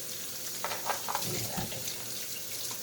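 Tap water runs steadily into a sink while greasy pork neck bones are rinsed, with soft splashing and handling sounds under the flow.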